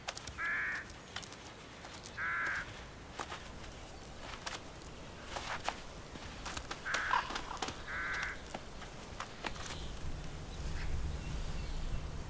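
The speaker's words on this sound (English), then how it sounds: "ravens are omnivorous and highly opportunistic" Ravens in wild Bavarian winter landscape give four hoarse croaking calls in two spaced pairs, moderately near, over a quiet outdoor background with a low rumble near the end.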